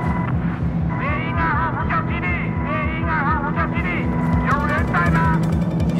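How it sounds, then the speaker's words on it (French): Helicopters approach in the Battlefield 4 video game, a steady low rotor thrum and engine drone running loudly throughout beneath a tense orchestral score with rising string phrases. "Vous entendez ça, Riker ? Des hélicos !"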